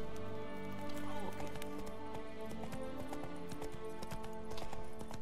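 A horse in The Witcher 3 video game, wearing a gold mask, clip-clops along in a steady rhythmic gait, hoofbeats fairly close and moderately quiet over layered game music and ambience, with no speech.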